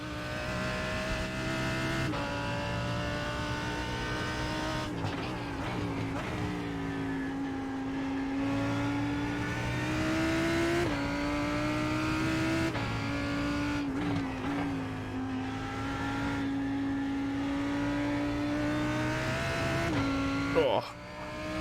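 A GTE-class race car's engine drones and revs steadily and up close through a lap at Watkins Glen in the iRacing simulator, its pitch rising and falling with throttle, with a person talking over it.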